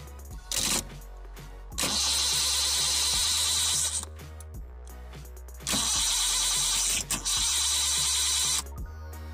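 A car's starter motor cranks in two long bursts of several seconds each, jumped directly across the starter switch pin, whirring loud and close over a steady low hum with short clicks between.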